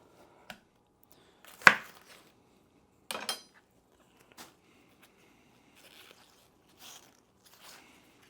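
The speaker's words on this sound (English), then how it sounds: "is cutting up stuff like cabbage." A knife chops cabbage on a board in a home kitchen during taco prep: a few sharp, separate cuts with pauses between them, the strongest near the start, then softer taps. The chopping is close and there is no talk.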